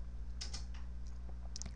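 Keys on a computer keyboard are tapped in a short burst of a few quick clicks, close and clear over a steady low electrical hum, with no one speaking.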